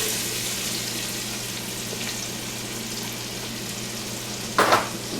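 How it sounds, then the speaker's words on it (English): Onions go into a hot cast iron pot for meatball stew and sizzle steadily, a loud continuous frying hiss, with a brief scrape or stir near the end. "Toss in our onions."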